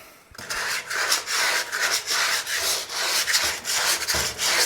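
A sanding block rubs back and forth over the body of a 1937 Zephyr car in steady rhythmic strokes, about a dozen close, raspy scrubbing passes with brief pauses between them.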